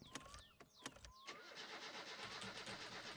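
A car engine cranks and catches in the driving game My Summer Car, a few sharp starter bursts followed by a steady engine running on.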